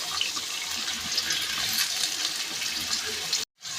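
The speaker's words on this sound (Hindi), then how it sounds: "अब हम इसमें डालेंगे आलू और आलूओं के साथ थोड़ा सा पानी भी ऐड करेंगे।" Water added to potatoes frying in hot oil makes a loud, steady hissing sizzle that runs continuously and then cuts off abruptly near the end.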